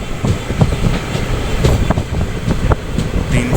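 A passenger train runs on the Vadodara–Ahmedabad line, giving a steady, close rumble of wheels on rail with clickety-clack joints and faint metallic squeals, continuous throughout with no talk.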